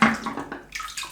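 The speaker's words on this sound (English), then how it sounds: "I just dropped the brush in the water." A shaving brush drops into a sink of water with one close splash and a short watery gurgle that quickly fades.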